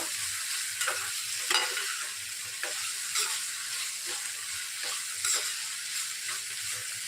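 Chopped tomato sizzles in a pan for a Gujarati mamra khichdi breakfast, with a steady broadband frying hiss and periodic spoon strokes stirring through it, close and continuous with no talking.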